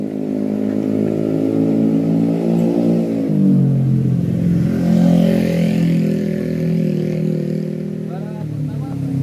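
A motorcycle revs hard at a drag race, its engine note climbing and dropping through several surges over a steady crowd din, loud and close throughout.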